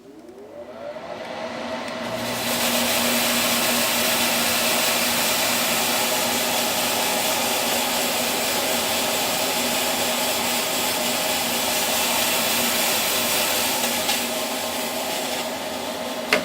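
Antari Ice and Chauvet Hurricane 1800 Flex fog machines run with a loud, steady broadband hiss and whoosh that swells in over two seconds and holds without pause, no voices present.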